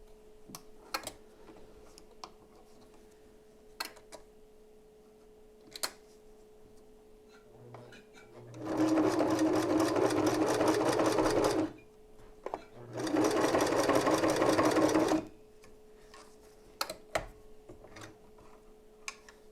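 An old sewing machine stitches a nursing bra conversion kit in two steady bursts of about three seconds each, loud and close, with a quiet pause between them and faint ticking and background noise around them.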